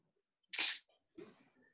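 A person lets out one sharp, loud sneeze at close range, followed by a softer breathy exhale and a faint sniff in an otherwise quiet room.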